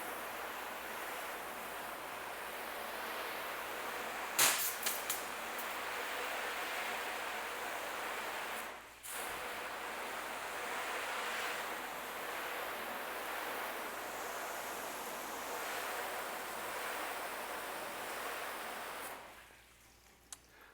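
Garden hose spraying water onto the coated paint of a car, a steady broad hiss that runs for about twenty seconds with one short break before tapering off at the end.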